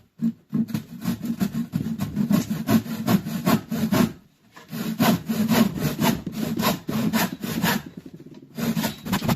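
A hand saw cuts through wooden boards for a cat house in steady back-and-forth strokes, loud and close, pausing briefly before resuming the same rasping rhythm.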